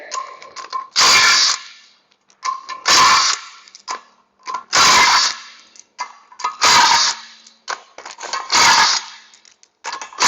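A power tool works bolts off the flex plate of a Ford engine during a manual gearbox install on a Falcon in a home garage, sounding in five loud, close bursts of roughly a second each, separated by quieter clicks and handling noises.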